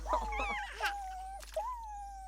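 A dog whimpers close by with high, thin whines that rise and slide, broken by a few short yips, then settles into one long wavering whine.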